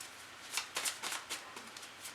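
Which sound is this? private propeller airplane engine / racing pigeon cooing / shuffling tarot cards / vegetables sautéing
shuffling tarot cards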